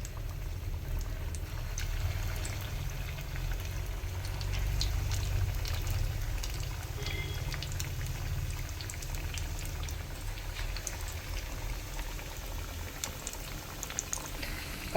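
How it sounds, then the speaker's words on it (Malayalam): Chicken and sago cutlets fry in hot oil with a steady, fairly faint bubbling and seething and occasional sharper pops, heard alone throughout. "ഞാനിത് എണ്ണയിലിട്ട് കൊടുക്കട്ടെ."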